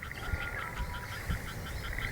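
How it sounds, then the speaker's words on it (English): Small frogs croak faintly from rice ponds being filled with water, a soft continuous chorus of high trills and chirps under a low rumble, with no talk. "If you listen carefully, you can hear the small frogs"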